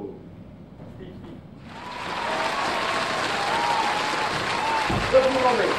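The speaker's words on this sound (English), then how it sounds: "Give a round of applause to Dr. Homo!" Audience applause swells for an arriving guest at a student science-foundation skit, rising after a quieter opening and holding steady to the end, with some voices mixed in near the close.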